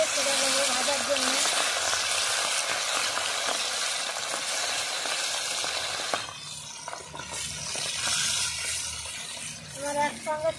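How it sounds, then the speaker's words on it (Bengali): Small charapona fish frying in hot oil, a steady crackling sizzle with occasional stirring scrapes and brief pops, continuing throughout at a close, moderate level while a voice speaks intermittently. "তেল গরম হয়ে গেছে আমি এক এক করে মাছ সব তেলের মধ্যে ছেড়ে দেবো ভাজার জন্য"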